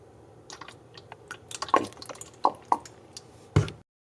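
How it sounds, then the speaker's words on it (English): Stan's No Tubes tire sealant poured into a cup while setting up a tubeless conversion on a Trek Marlin 5, giving quiet drips and small liquid splats, a few sharper plops, and a final louder splash near the end. "Now I'm going to pour 3 ounces into my cup."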